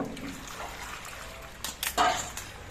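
Bitter gourd leaves and papaya are rinsed in water, quiet trickling and splashing up close, with a few louder sloshes toward the end.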